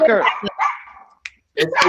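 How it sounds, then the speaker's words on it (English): A dog barks at plumbers working in the house, several sharp barks overlapping with a person talking nearby. "my dog is barking at the plumbers"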